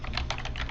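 A brief flurry of computer keyboard keystrokes while filling in answers, several quick soft taps in under a second, close and moderately quiet.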